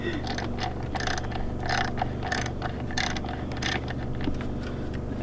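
A ratchet wrench backs out a 10mm bolt holding a car's purge valve, giving a steady run of quick, close clicking strokes with no talking.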